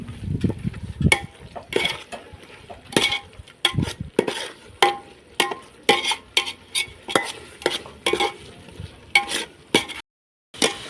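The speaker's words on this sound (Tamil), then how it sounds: "இப்போ நம்ம புதினா, பிரியாணி இலை, தக்காளி, தயிர், வெங்காயம் போட்டு கிண்டி இருக்கோம்" A spoon scrapes and stirs mint, bay leaf, tomato, curd and onion in a biryani pot, with steady repeated strokes and a soft sizzle underneath, close and fairly loud with no talking.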